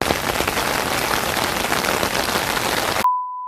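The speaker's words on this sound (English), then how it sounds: "It rained so much, and I know how you guys like love rain ASMR." Heavy rain pours in a dense, loud, steady hiss of countless drops on surfaces, then cuts off abruptly into a brief electronic tone.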